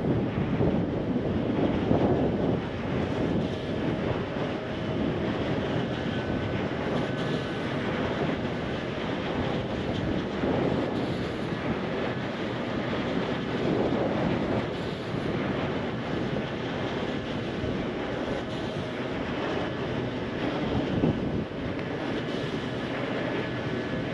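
Strong wind sweeps across a green hilltop lined with wind turbines in Hassan District, Karnataka, buffeting the microphone in a continuous, fairly loud roar for the whole stretch, with no talking.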